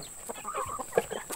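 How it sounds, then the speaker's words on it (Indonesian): Village chickens cluck in short, scattered bursts close by, with a steady high hiss in the background. "Inilah ayam. Ayam jagaan ini."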